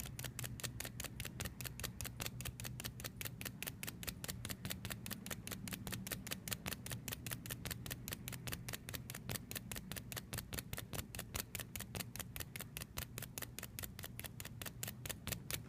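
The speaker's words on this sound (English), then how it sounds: "taking it down from one end to the other, and you have to do it really quickly" A magnet is stroked quickly and steadily along a paper clip, making rapid, evenly spaced scraping strokes, about three per second, that continue without pause at close range with no talking.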